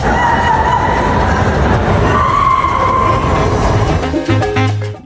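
A loud, continuous rumble and rattle of a São Paulo subway train in motion, steady throughout before briefly easing near the end.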